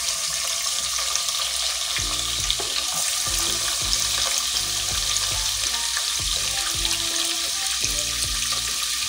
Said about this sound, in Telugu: ఆవాలు చిటపటలాడుతున్నాయి మనం వేసిన జీలకర్ర, ఆవాలు.